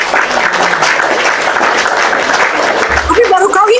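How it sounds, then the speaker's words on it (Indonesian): Close, busy applause from a group fills the few seconds without a break, and a voice starts talking over it near the end. "tepuk tangan"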